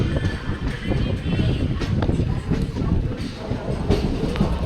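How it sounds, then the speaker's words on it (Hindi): Kalka–Sainagar Shirdi superfast train rolling out of Bhopal, a steady low rumble with faint rhythmic wheel clatter heard from inside the carriage, continuous and moderately loud. "ट्रेन जो है निकल चुकी है भोपाल से।"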